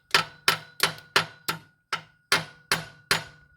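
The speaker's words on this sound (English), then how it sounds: "There are a couple of taps with the hammer right on the flange here." Nine sharp metallic taps of a hammer striking a metal flange on a 2011 Ford Crown Victoria 4.6L water pump job, evenly spaced with a ringing tone, close and clear with nothing else in the background.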